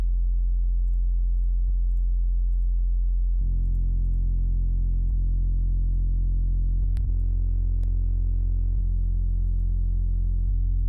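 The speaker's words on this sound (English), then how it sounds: "that is just a sine wave, underneath a more complicated bass sound" A steady, deep sine-wave sub bass hums continuously beneath a more complex bass sound, holding a low sustained pitch with a few brief clicks and pitch shifts along the way.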